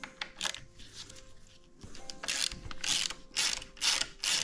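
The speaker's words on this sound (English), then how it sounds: "Now we're putting our 6 Allen back on and we're going to loosen our triple clamps." A 6 Allen key loosens the fork triple clamp bolts on a Cyrusher Ranger fat tire e-bike, a series of close, sharp ratcheting clicks in uneven bursts, growing louder toward the end.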